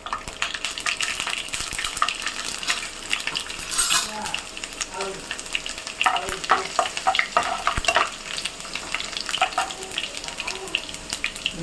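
Garlic sizzles in hot oil with popped mustard seeds and fenugreek for an egg-tomato thokku, a steady frying hiss broken by scraping stirs and utensil clinks against the pan, moderately close.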